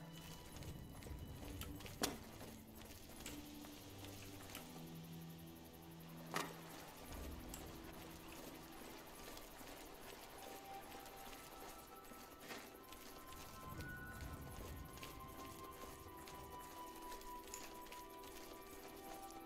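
Horse hooves clip-clop in the video game Oblivion amid a constant noisy outdoor background, with a couple of louder knocks standing out.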